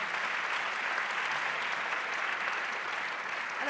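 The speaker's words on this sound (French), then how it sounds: "on l'applaudit" Audience applause after a speaker finishes at a reforestation conference, a dense, steady wash of clapping from a sizeable crowd that holds at an even level throughout.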